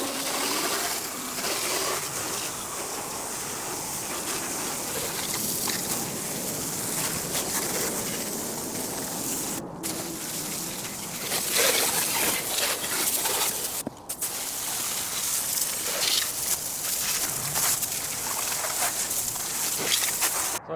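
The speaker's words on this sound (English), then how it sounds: "a vehicle that's as dirty as this one, probably gonna rinse it down" A water hose spraying down a very dirty car engine bay, a continuous broadband hiss and splatter of water up close, with a couple of brief breaks in the spray.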